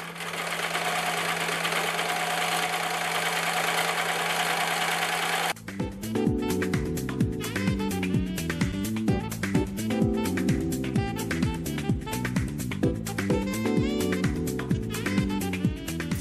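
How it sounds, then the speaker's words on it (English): A sewing machine stitches back and forth on fabric to finish an embroidered appliqué, starting after a few seconds of steady hum with a fast, rhythmic mechanical chatter that stays loud and close, with no talking. "So I always start on the fabric and bounce off. So I'm just going to sew back and forth."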